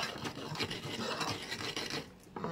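Ingredients are ground smooth for a Sarawak sour eggplant dish, a close, continuous rasping and scraping with a quick repeated rhythm that eases off near the end.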